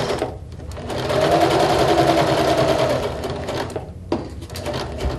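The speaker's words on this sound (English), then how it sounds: "I'm going to back stitch a little bit at the beginning, and then go sew our seam up to the top of the compartment." A sewing machine runs steadily while back stitching and then stitching a seam, its motor whirring loud and close for a few seconds before pausing briefly and starting up again near the end.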